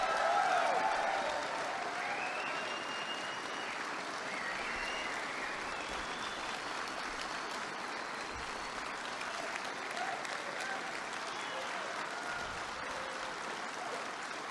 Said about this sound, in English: Were you applauding for someone in particular?